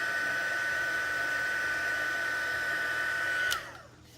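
A heat embossing tool blows steadily to melt embossing powder on a card. The even, close whooshing hum with a faint high whine holds for several seconds, then shuts off and fades away.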